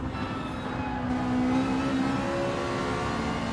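Race cars on a circuit during a club GT race, engines droning steadily at high revs with a whining tone that swells slightly midway, continuous and fairly loud with no voices.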